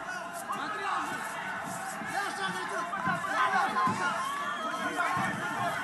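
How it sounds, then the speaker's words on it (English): Crowd at a wrestling match between Safari and Yakovlev rumbles with steady chanting and chatter throughout, a dense, continuous roar of many voices at a distance. "And there goes the crowd chants again for Safari."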